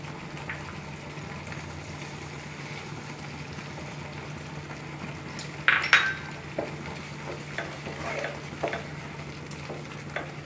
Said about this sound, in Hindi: बस इसी तरह से हम लोग खुले आंच में और फुल गैस में इसे हम पकाएंगे।